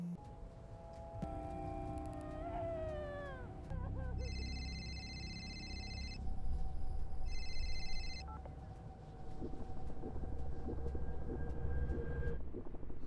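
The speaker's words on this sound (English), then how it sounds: "first things first, we got to answer that phone" A video game telephone rings in repeated bursts of bright electronic trilling, two clear rings separated by a pause, over a low rumbling background with other game sounds before them.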